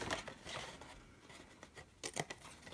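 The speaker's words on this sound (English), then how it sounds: "So cut up to that first score line on all these flaps." Scissors cut card flaps up to a score line while making a box: a soft, close run of snips and light papery rustling, fairly quiet throughout.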